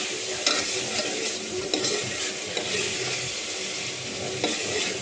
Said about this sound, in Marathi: थोडंसं आणखीन परतू द्यायचा 1-2 मिनिटं।